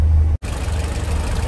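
A 1966 Morris Minor Traveller engine idling with the bonnet open, a steady low rumble close to the microphone, broken by a brief dropout before settling back into the same even idle.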